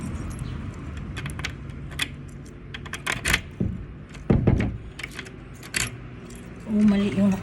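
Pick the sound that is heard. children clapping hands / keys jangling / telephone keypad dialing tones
keys jangling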